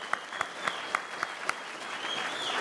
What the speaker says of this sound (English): A round of applause for all the films,